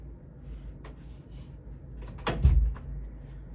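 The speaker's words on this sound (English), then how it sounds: "Let me close the door." An indoor door swings shut with a single dull thud near the middle, preceded by a faint scrape against quiet room tone.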